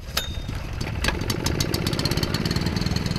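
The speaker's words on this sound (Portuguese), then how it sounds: "O motor que ele prepara é para levar água do rio até a casa dele nessa mangueira." A small motor pumping river water up a hose to a house runs steadily at close range with a loud, fast-pulsing chug. It sits high on the bank and carries on alone with no voices.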